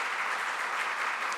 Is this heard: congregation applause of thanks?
yes